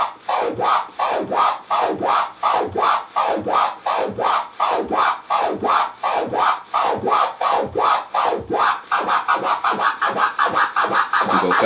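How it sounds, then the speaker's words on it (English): Turntable baby scratches: a record is pushed back and forth by hand in a steady, even rhythm of rubbing strokes. The strokes speed up slightly toward the end, loud and alone. "baby scratch is gonna follow a bell curve of some sort."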